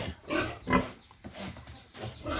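Pigs in a simple pen grunt and snort close by in short, uneven bursts.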